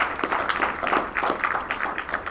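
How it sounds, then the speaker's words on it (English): An audience applauds at a military unit commander's call, steady dense clapping from many hands filling the room at moderate loudness without a break. "Big round of applause for those folks for putting that exercise on."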